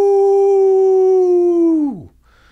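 A podcast host imitates a wolf howl with his voice, one long loud sustained tone held steady for about two seconds before sliding down and cutting off, close to the microphone.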